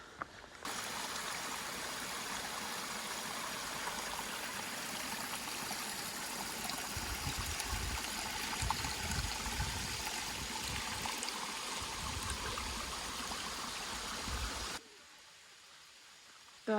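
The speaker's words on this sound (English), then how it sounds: "I hear a waterfall." Steady broadband rush of falling water fills the scene, constant and fairly loud, then drops off sharply near the end.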